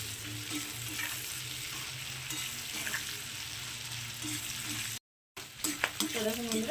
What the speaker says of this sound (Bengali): এবার এটাকে জাস্ট আমি দু তিন মিনিট ভেজে নেব